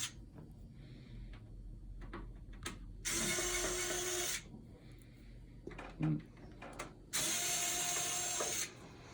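Screws are backed out of a 3Com NBX V3000 power supply with a powered driver, heard as two loud whirring bursts of over a second each, separated by quieter clicks and handling noises.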